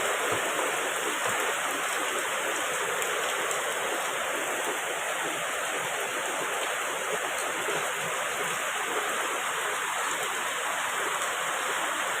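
Heavy rain pours down in a forest retreat at a Thai monastery, a dense, steady hiss that stays constant and loud throughout without pause.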